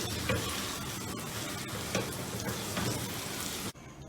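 Semolina halwa with finely chopped dry fruits being roasted and stirred in a pan, a steady close sizzle with scraping spoon strokes throughout, cutting off abruptly near the end.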